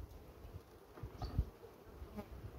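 Honey bees buzzing around an open beehive during autumn colony preparation, a steady close insect hum with individual bees droning past, plus a soft thump or two.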